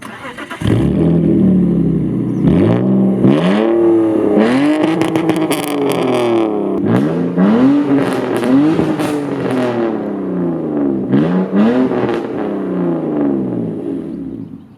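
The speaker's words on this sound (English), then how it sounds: "I have a clip that shows you how loud this car actually is." A BMW E46 328 engine revving hard through a loud, raspy straight-piped exhaust, repeated sharp rises and drops in pitch, close and very loud, with no talking.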